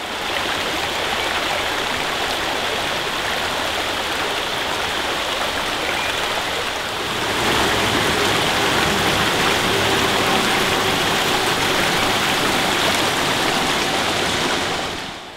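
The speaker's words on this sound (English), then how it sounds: "Some pretty big boulders and waterfalls here on this creek, and definitely some pretty cool scenery." A mountain trout creek runs at high water over big boulders and waterfalls, a steady, loud broadband rush that swells slightly fuller halfway through, continuous and close with no voices.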